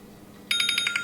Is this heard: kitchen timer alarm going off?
yes